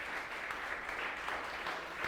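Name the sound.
congregation applauding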